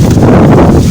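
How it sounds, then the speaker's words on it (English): Strong wind buffets the microphone outdoors among mango trees in hot, windy weather, a loud, continuous rumbling roar with no pauses and no voice. "guys, it's very windy"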